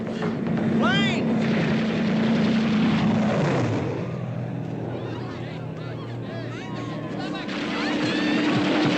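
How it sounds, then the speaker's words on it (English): A propeller airplane drones overhead during World War II, a steady engine hum that swells then shifts pitch as it passes, with voices talking nearby and animal sounds mixed in. "Plane!"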